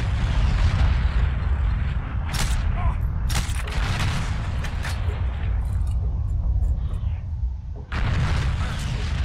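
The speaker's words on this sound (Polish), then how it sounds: "Chyba sobie zaraz sam granat rzucę pod nogi" Grenade and explosion blasts in the video game Heroes & Generals, with several sharp loud bursts over a rumbling battlefield din and a final heavy boom near the end.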